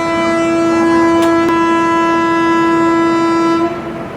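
The Mumbai-Ahmedabad Double-Decker Express sounds a loud, sustained departure horn at a station stop, one steady droning blast that holds for several seconds before cutting off.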